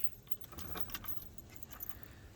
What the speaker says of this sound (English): I have 3 keys for the car.